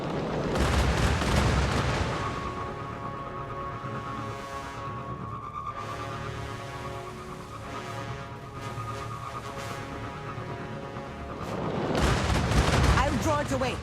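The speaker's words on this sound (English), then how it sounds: "A Goliath tank. Watch out for its cannon." Goliath tank cannon fire in the sci-fi shooter game Destiny Rising, with loud booming blasts at the start and again near the end, and a sustained tonal game score ringing between them.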